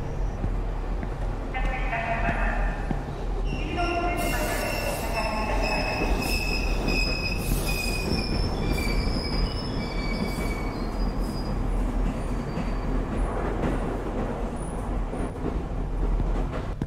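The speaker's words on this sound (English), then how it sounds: "Now we just have to wait for the train." A train pulls in within the horror game The Ghost Train, its wheels squealing in long, high metallic screeches over a steady low rumble of rolling stock, loud and close throughout.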